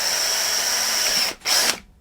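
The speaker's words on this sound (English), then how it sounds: "So let's just drill them up." Power drill boring a hole in a lawn mower part during a repair: a loud, close, steady whine for over a second, a brief stop, then a shorter second burst that winds down.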